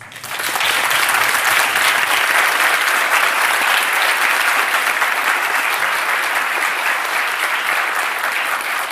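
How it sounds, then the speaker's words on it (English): A conference audience claps in a sustained round of applause, the dense clapping starting abruptly and staying loud and even for the whole stretch, with no voices standing out. "you can give them a last round of applause"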